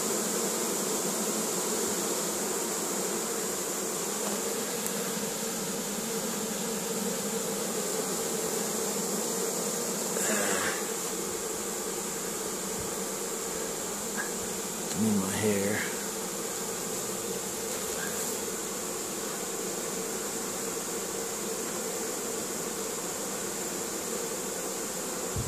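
A honeybee swarm being captured drones in a continuous insect hum throughout, with a few louder buzzes as individual bees pass close, over steady outdoor background noise.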